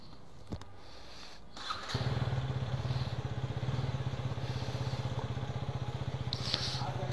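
Motorcycle starting in an underground parking area, with a brief click and crank followed by a close, steady low thumping idle that continues to the end.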